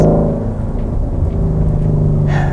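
A flat-plane-crank V8 engine of a 2017 Mustang GT350 rumbles loudly and steadily up close, a deep continuous growl with no talking.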